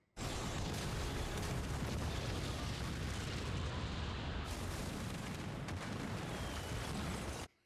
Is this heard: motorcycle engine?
no